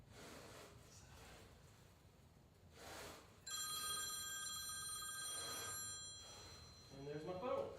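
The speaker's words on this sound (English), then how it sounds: "And there's my phone." A phone rings in a home garage gym, a steady electronic ringtone with bright sustained tones that starts partway through and holds for a few seconds over faint room noise, with a brief voice near the end.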